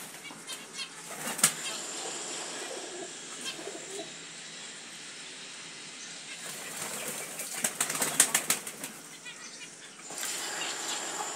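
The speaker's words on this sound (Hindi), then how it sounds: "सभी आ गए हैं कबूतर" Pigeons flutter and flap their wings nearby as they arrive to feed after rain, with bursts of wingbeats around a few moments and soft cooing and scuffling between.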